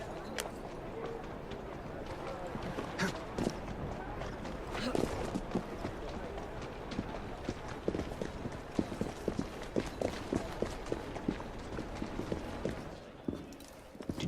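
Horse hooves clip-clopping steadily in Assassin's Creed Syndicate, set in Whitechapel, a fast trotting rhythm running throughout at moderate volume with voices talking over it.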